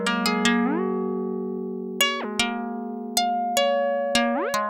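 Dry modular synth signal feeding a 1BIT multitap delay from FEEDBACK: a sequence of bright, harmonically rich synth notes with sharp plucky onsets and pitch glides, several distinct attacks over the clip, clean and unprocessed with no voices.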